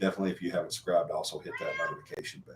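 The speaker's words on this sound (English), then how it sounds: "Sorry about the cat." A house cat meows faintly under a man's continuous speech, a few short mewing calls mixed into the talk.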